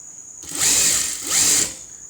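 A sewing machine stitches the side seam of a chudidar at a medium stitch length: two close, steady whirring runs of about half a second each, separated by a short pause, over a faint constant hum.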